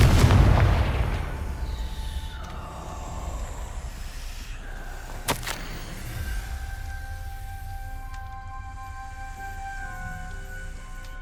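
Confringo blasting spell explosions in the Hogwarts Legacy video game: a heavy booming blast opens loud, then a sharp crack near the middle, with tonal game music and ambience sustained throughout.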